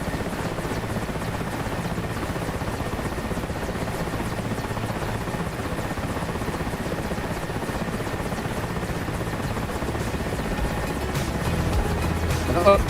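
Mi-8 helicopters in a flight simulator game give off a steady, droning rotor and engine rumble that holds at an even level throughout and swells slightly near the end.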